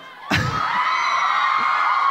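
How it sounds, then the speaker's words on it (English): At a YouTube FanFest show in Singapore, a large audience erupts into loud, sustained screaming and cheering after a sudden bang, the roar holding steady to the end. "I can say anything and you guys would scream,"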